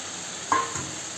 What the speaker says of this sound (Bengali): আমার মশলা থেকে তেল ছাড়তে শুরু করেছি, আমি এর মধ্যে ভেজে রাখা মাছগুলোকে দিয়ে দেব।